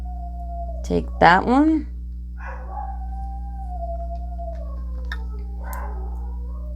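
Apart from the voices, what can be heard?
dog howling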